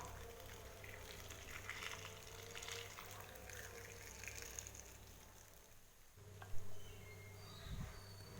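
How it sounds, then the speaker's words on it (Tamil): Faint, continuous watery rushing and trickling as hot water is poured over potatoes for French fries, softening partway through before a couple of small knocks near the end. "இப்போ இதில் சுடுதண்ணியை சேர்க்க போகிறேன்."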